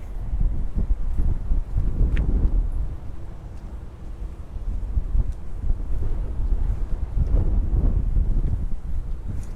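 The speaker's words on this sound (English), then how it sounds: "Might get a little windy over here" Steady wind buffeting the microphone with low rumbling gusts throughout, swelling louder near the start and end, with no talking, at El Morro in Old San Juan, Puerto Rico.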